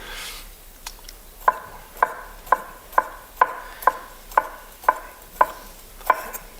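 A TOG kitchen knife cuts a large grape into thin slices, each stroke a crisp, close tick on the board, falling in an even rhythm of about one slice every half second.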